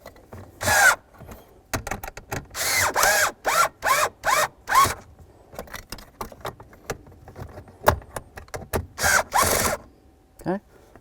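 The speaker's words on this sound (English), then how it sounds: "We've got our 2 screws. Now I'm going to carefully tighten these up just till they bottom out." Screws are tightened by hand into the blower motor resistor of a 2005-2016 Ford Mustang, giving a run of short, close, bright scraping and clicking bursts that come in quick succession with small pauses between them.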